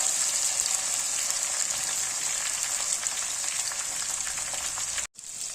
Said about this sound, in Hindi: अब थोड़ी देर टमाटरों को पकाएंगे